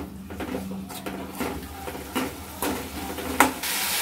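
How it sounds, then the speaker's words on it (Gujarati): Tomato chutney stirred in a pan: soft scraping and clinking strokes at an uneven rhythm over a low simmering hiss, close and moderately loud, without talk. "સારી રીતે મિક્સ કરી લઈશું."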